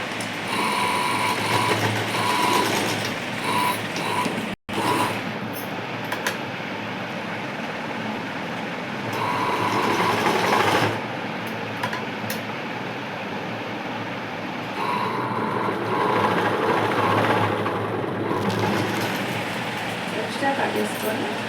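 A sewing machine stitches and hems the neckline of a dress, its fast mechanical whirring running in long bursts with short pauses while someone talks over it.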